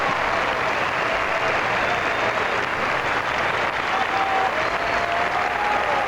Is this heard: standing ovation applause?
yes